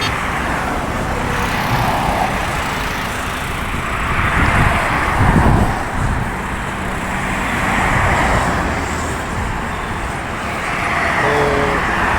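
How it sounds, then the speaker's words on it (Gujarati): Heavy road traffic on a busy roadside: cars and trucks rumble past continuously at close range with swelling pass-bys and a louder rush midway, no talking. "ટ્રાફિક વધારે હોવાથી થોડીક વાર ઊભું રહેવું પડશે."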